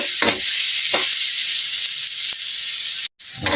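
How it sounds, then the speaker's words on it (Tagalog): Chili being stirred into kangkong in a pan, a steady loud sizzle with a few soft scraping stirs through it, and a short break near the end. "Haluin natin guys."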